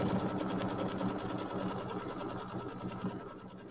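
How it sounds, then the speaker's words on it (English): An embroidery sewing machine stitches a quilt stretched in a hoop, a fast, even mechanical whirring and ticking close by, steady and alone without talk. "we're going to go ahead and stitch out step number 1, which is going to be, at first it's going to sew it down to the hoop"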